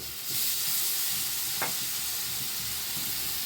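Masala sautéing in a pan with boiled chana dal and peanuts, a continuous hissing sizzle at moderate level with one brief clink partway through.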